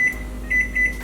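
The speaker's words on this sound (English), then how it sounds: "we're sticking it in the microwave for 8 minutes" Microwave oven cooking potatoes, a steady low hum with a constant whine and faint periodic pulsing, close and alone without talk.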